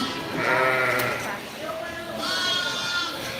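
Ewes bleating in lambing enclosures, several drawn-out calls that overlap and rise and fall, close by and fairly loud, with a person talking quietly in between.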